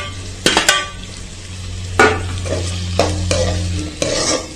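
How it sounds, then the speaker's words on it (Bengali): Chopped tomato and green chilies sizzle in a pan while a spoon stirs them, a steady close fry with sharp scraping strokes about once a second. "নেড়ে ছেড়ে ভেজে নিব টমেটোটা নরম হয়ে আসা পর্যন্ত"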